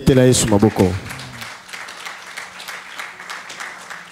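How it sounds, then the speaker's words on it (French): A church congregation bursts into applause and cheering after a voice sings out, the clapping dense and loud at first, then settling into steady scattered claps that continue to the end. "Acclamons juste pour le Seigneur"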